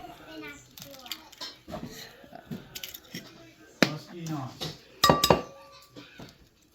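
Flour and pepper seasoning are mixed in a bowl for fried chicken, with irregular clinks and scrapes of utensil against the dish, a few sharper knocks, and people talking over it.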